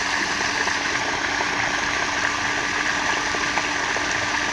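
Water gushes steadily and loudly from a solar-powered tube well pump, a continuous dense rush with no pauses and no voices.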